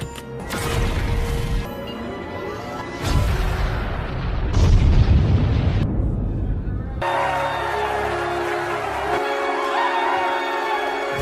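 Loud, deep booming bomb blasts and rumbling crashes follow one another, with a heavy low roar swelling midway before a steady dense rumble takes over.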